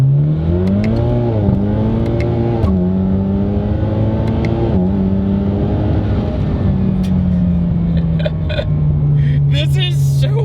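A big-turbo 2.0-liter four-cylinder Chevy Camaro making about 450 hp accelerates hard, its loud engine note climbing and dipping through several revs, with sharp turbo blow-off chirps near the end.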